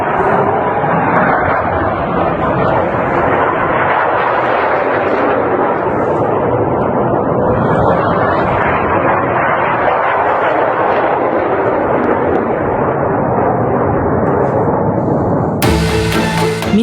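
Iranian missiles striking targets in Israel, a dense continuous roar of blasts and rumbling booms, loud and sustained throughout with a sharp burst near the end.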